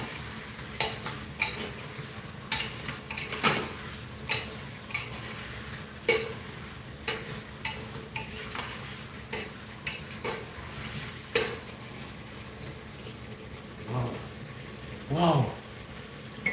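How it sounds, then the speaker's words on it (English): A spoon repeatedly stirring and scraping Jamaican oxtail in a cooking pot, with sharp metallic clinks at irregular intervals over a low sizzle and some background speech. "Give this back another stir. Don't let them stick."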